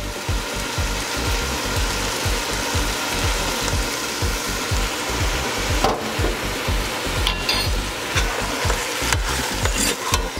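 Pineapple cooks in a pan with apple cider vinegar and maple syrup, a continuous bubbling sizzle broken by rhythmic stirring and scraping strokes, close and steady throughout.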